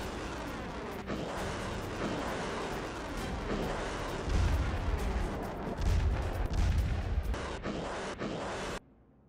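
Iskander missile strike on the city of Sumy during the war in Ukraine, heard as a sustained heavy rumble of booming blasts and crackling that swells twice, then cuts off abruptly.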